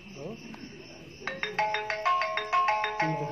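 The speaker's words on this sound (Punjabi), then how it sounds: "ਤੇਰੇ ਫੋਨ ਤੇ ਫੋਨ" A mobile phone ringtone goes off at midnight, its bright melodic notes repeating in a steady electronic pattern after a short stretch of quiet with a brief voice at the start, close and fairly loud.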